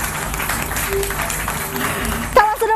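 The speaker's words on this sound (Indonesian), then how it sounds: "Tepuk tangan dulu." Applause from a small group during an acrylic craft demonstration at a TV studio, a steady wash of clapping lasting throughout, with voices talking over it and a louder burst near the end.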